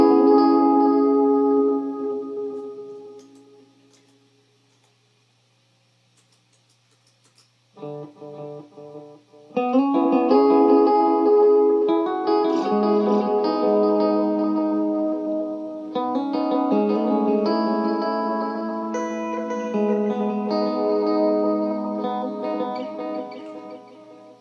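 An electric guitar runs through dotted-eighth and quarter-note delay effects, with picked notes repeating in spacey cascading echoes and a gap of silence between the two phrases.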